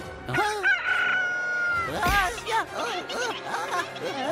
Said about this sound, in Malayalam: ഇത് വെറും ഒരു പക്ഷിയല്ല, ഇതൊരു കോഴിയാണ്.